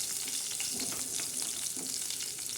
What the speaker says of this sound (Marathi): तर बघा असा मस्त लसणाला असं छान असा तडका द्यायचा.